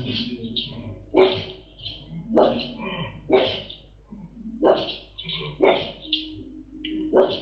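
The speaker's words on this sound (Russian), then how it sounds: "аж собака залаяла, блядь, завыла волком" A dog barks repeatedly in sharp, rhythmic yelps mixed with whining, howl-like cries, fairly close and loud, with a steady low hum underneath.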